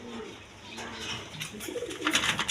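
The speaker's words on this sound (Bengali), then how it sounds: "এখানে একটা বোম্বাই নর আছে বোম্বাই নর কবুতর সাদা কালারের মধ্যে" Bombay pigeons cooing in a loft, soft repeated throaty coos from several birds nearby, growing busier toward the end, with no talk.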